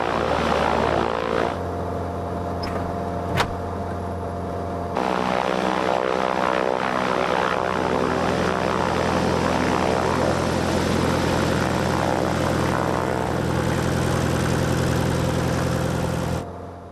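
A Grob Tutor light propeller aircraft's engine drones steadily while taxiing, a loud close hum with a brief click and an abrupt shift in level partway through.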